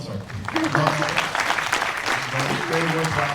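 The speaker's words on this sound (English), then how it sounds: "you can continue your applause for this panel" Audience at a Toronto housing panel on multiplex zoning applauds steadily for a few seconds, a dense even clatter of many hands, while someone speaks briefly over it.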